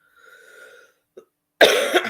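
A single sharp cough bursts out at close range after a brief tonal hum and a small click, loud and harsh, trailing off within about half a second.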